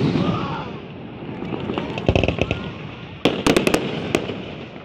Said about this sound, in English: Someone on the west side seeing fireworks too.